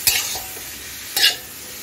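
Ridge gourd with egg frying in a pan gives two short, bright sizzling bursts, one at the start and one about a second later, over a low steady hiss of hot oil.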